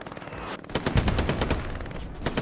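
A machine gun in the Hell Let Loose shooter rattles off a long, rapid burst of evenly spaced shots, loud and close, with a brief lull before the firing starts.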